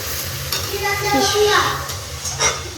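Masala paste with turmeric sizzling in hot oil in a pan, stirred with brief scraping strokes, close and fairly loud, with faint voices in the background.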